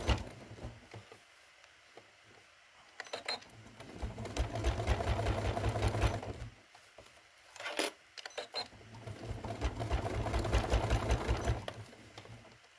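A sewing machine stitching a folded star trivet runs in bursts of rapid mechanical whirring, stopping and restarting between runs with small clicks, close and alone without voices.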